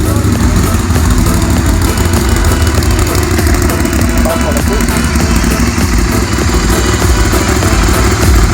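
A motorcycle engine roars loudly and steadily near a former missile base at Passo Coe, Folgaria. The engine note stays close and sustained, with brief talk over it.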